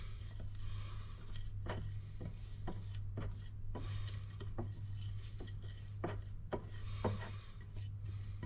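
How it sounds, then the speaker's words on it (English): Spoon scraping and clinking against a bowl while stirring a smoky whisky and ginger rub for coating a round cut of leg meat, with repeated sharp taps over a steady low hum and no talking. "I stir it up, and I'll coat it on a piece of meat."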